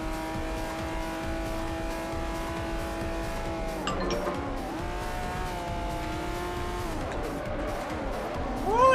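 Racing game car in Forza Horizon 4 driving with a steady engine drone, tires squealing in rising and falling sweeps through corners and a louder rev at the close.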